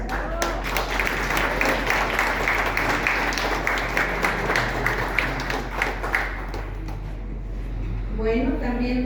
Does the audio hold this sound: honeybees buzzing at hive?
no